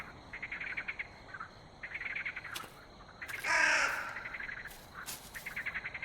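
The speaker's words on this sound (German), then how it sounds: "Oh, da ist ein Rabe." Raven cawing in the dark woods of The Cursed Forest, a burst of harsh calls around the middle against a steady chirping insect and bird ambience, with fainter calls before and after.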